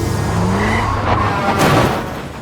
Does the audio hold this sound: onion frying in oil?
no